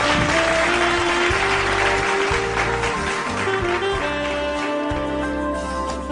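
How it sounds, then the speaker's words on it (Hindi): Dense applause from a crowd at a Human Rights Day event, steady and loud throughout, with music or a drone humming underneath. "दोस्तों, जोरदार तालियां।"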